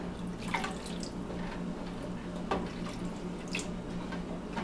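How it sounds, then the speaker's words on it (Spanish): Water poured into a cooking cream sauce for spaghetti squash with sausage, a steady light liquid trickle with occasional drips, fairly faint and continuous, with no talking. "Yo voy a agregar un poco más de agua, a mí me gusta que quede más líquida."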